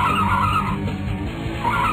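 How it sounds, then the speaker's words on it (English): Tires of a taxi screeching in the arcade driving game Crazy Taxi, a loud squeal over engine roar that fades midway and returns at the end. "How come it screeches every time"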